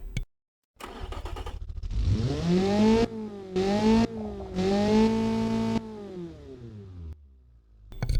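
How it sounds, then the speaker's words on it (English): A car engine in a racing video game revs up several times in quick bursts, pitch rising and falling with brief cuts between, loud and close, no talking. "Yep, and that is the sound of the engine."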